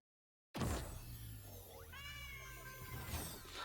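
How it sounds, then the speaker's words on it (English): Cat meows from the Cosmic Kitty goal explosion in the Rocket League video game, a few drawn-out mewing calls with a bright sparkly whoosh beneath, played alone after a sudden onset. "There is a cat meowing, a little cosmic cat."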